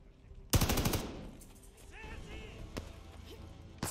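In Call of Duty: Vanguard, a gun fires a loud, rapid burst of shots up close, followed by scattered single cracks and quieter in-game sounds.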